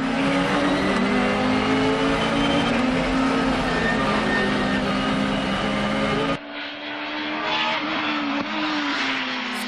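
A race car engine screams at high revs and rises in pitch through each gear, with a sharp break at every shift. The pass comes from a Japanese car battle comparing naturally aspirated and turbo machines, loud and close with no talk.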